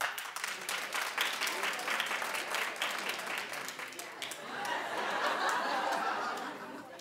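Studio audience clapping steadily for about seven seconds, with scattered laughter and chuckles mixed in, swelling slightly louder toward the end before tapering off.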